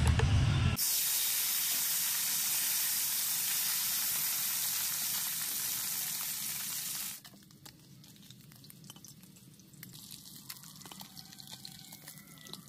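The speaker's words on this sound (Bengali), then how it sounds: "এবার আমি মাছটা ভেজে নেব, কড়াই টাকায় দিয়ে নেব।" Fish rubbed with salt and turmeric frying in oil in a kadai, with a loud, steady hiss and sizzle that drops abruptly to a quieter crackle partway through, with no voices.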